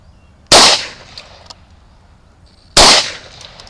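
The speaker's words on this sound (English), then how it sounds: "And apparently I'm shooting all over the place with it." A Hi Point C9 9mm pistol is fired at a target: two sharp, loud, close gunshots about two seconds apart, each with a short ringing tail and quiet between them.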